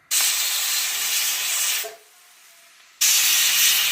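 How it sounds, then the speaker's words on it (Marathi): Pressure cooker whistle hissing steam on a home kitchen stove while cooking shenga poli filling, a loud sustained broadband hiss that cuts off briefly, leaving a faint tone, then bursts back at full strength. "असा कुकरच्या 3 शिट्ट्या होऊ द्यायच्या"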